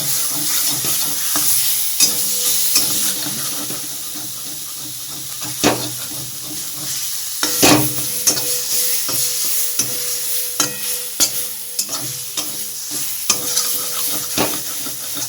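Masala spice paste sizzles steadily in hot oil in a pan for a Bengali fish curry, with repeated scraping stirring strokes over the constant frying hiss; no one speaks.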